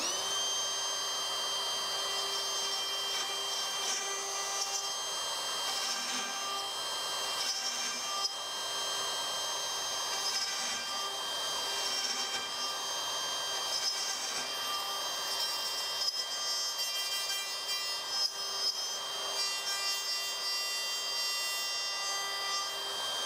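A plunge router cutting magnet holes in an antique pine bi-folding window shutter gives a steady high-pitched whine with a rough, rasping cut throughout, close and fairly even, with no talking.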